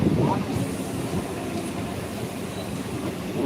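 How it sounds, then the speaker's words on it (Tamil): A passing express train rumbles with a steady broadband roar from nearby, loud and unbroken throughout the short stretch. "எனக்கு ரைட் சைடு இருக்குது எக்ஸ்பிரஸ் ட்ரெயின்லாம்"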